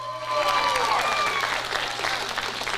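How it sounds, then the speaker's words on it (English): Audience applause for the counselors and staff at a high school senior awards ceremony, dense close clapping that swells quickly and holds steady, with voices and whoops mixed in. "Give them a round of applause"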